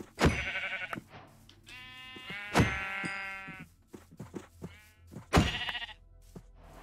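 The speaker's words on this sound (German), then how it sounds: "Das sind auf jeden Fall mal Schafe." Several sheep bleat in a Minecraft game, a series of distinct nasal calls with short thumps between them, fairly close and clear with no talking.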